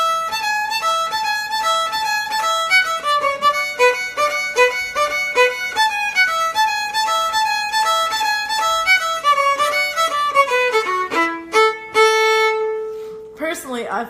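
Solo fiddle playing a quick short note followed by a longer held note, the pattern repeating in a steady even rhythm, close and clear, ending on a sustained bowed tone.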